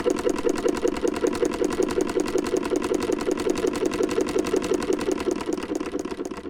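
An old early Singer 15 sewing machine runs at an even speed, its needle mechanism producing a rapid, regular mechanical chatter close by, steady and uninterrupted throughout.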